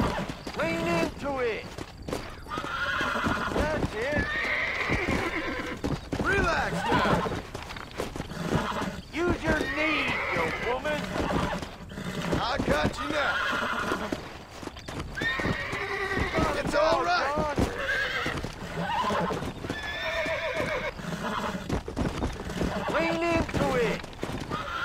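Horse whinnies and clip-clopping hooves from the Red Dead Redemption video game, repeated neighs over steady hoofbeats with game music and characters talking throughout.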